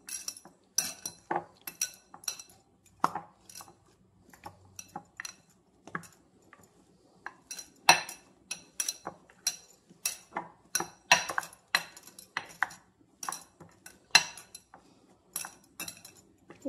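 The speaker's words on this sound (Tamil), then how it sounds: "சக்கரவள்ளி கிழங்கு நல்லா மசிச்சு வச்சுருக்கோம்" Boiled sweet potato being mashed in a bowl with a small steel tumbler, heard as repeated sharp metallic clinks and taps in an irregular rhythm, close and fairly loud, with no talking.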